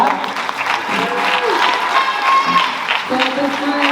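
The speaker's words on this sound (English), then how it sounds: "So give them a round of applause for that." A school spring concert audience claps in a steady, dense wash of applause, fairly close and continuous throughout, with a few faint voices mixed in.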